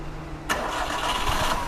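A Maruti Suzuki WagonR with an engine misfire fault cranks and fires abruptly after a quiet moment, then settles into a loud, close, steady idle with faint rough knocks.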